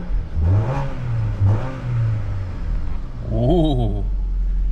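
Engine of an auto-throttle machine at a Ritchie Bros equipment auction revving up several times, each rise climbing in pitch before settling back to a steady idle, loud and close.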